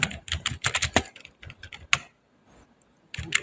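Computer keyboard keys are struck in quick bursts while commands are entered in AutoCAD, close clicky taps clustered in runs, a brief pause, then more typing.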